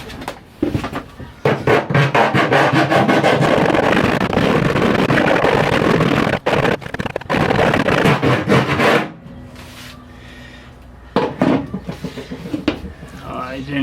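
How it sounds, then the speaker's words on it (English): Round file rasping back and forth inside a freshly cut hole in the bed of a 2021 Ford F150 PowerBoost, deburring its edge; dense, steady scraping strokes for about nine seconds, then a pause and a few shorter strokes. "Can use a little roundish file to go on the inside there and get rid of some of those"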